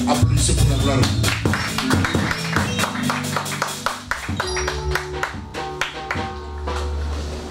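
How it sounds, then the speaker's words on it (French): Church congregation applauding, with sharp, close claps that mix with bursts of music and a shouting voice and ebb and surge in loudness. "Applaudissez pour la gloire de Dieu."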